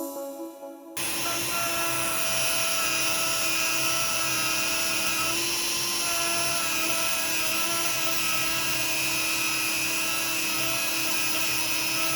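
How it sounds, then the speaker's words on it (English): A dull grinding wheel spins steadily during a Yamaha YZ125X motorcycle rebuild, starting abruptly after a brief pause and holding a continuous, fairly loud tonal whine with a rough, buzzing edge. "grinding wheel is dull as all get out."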